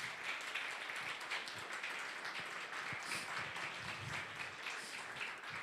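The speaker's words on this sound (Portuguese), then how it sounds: "vamos dar uma forte salva de palmas a Jesus" A church congregation applauds, steady dense clapping from many hands that stays fairly quiet and even throughout.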